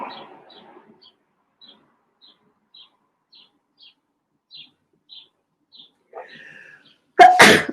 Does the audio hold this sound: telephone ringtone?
no